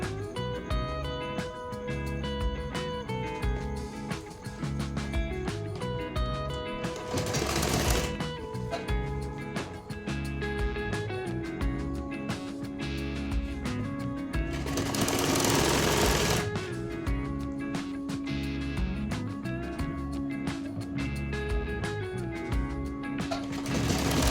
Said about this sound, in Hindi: अब इसी के ऊपर दूसरा वाला पल्ला रखेंगे और इस पर पकड़ पकड़ के बराबर से सिलाई लगाएंगे